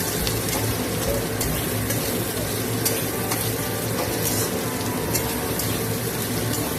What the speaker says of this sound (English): you have to fry it off.